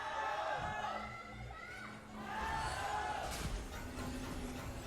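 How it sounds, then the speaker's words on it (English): Crowd at an Honor of Kings World Championship esports match cheers and shouts steadily in a large venue, fairly faint and continuous for a few seconds. "the crowd are just going ham"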